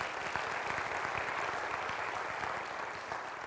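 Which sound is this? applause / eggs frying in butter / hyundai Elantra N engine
applause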